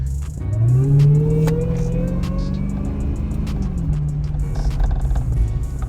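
A custom-built Dodge Magnum Hellcat engine revving on a drive, a deep rumbling roar that climbs in pitch, holds, then settles into a steady loud drone, with some rattling and clicks inside the car.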